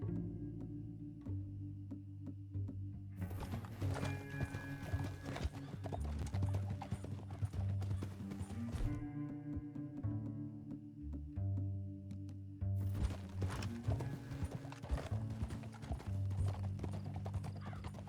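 Red Dead Redemption 2 horse: rhythmic clip-clop of hooves at a steady gallop over a low musical drone, continuing throughout with a brief lull midway.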